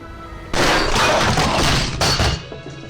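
Explosions in Shadow of Mordor, a loud, close blast bursting in and roaring on, followed by a second burst and a trailing rumble.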